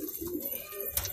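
Soft, low pigeon cooing close by, faint and murmuring, with a brief rustle near the end.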